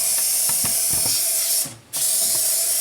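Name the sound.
Lysol disinfectant spray sprayed on a wooden cabinet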